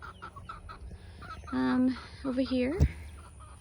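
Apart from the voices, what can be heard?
chickens clucking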